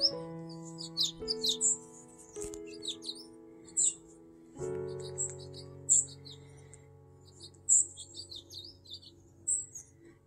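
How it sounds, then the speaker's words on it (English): A white-crowned sparrow sings outdoors among trees, its bright whistled phrases and high chirps repeating every couple of seconds over a steady low hum, with no talking. "White crown sparrow."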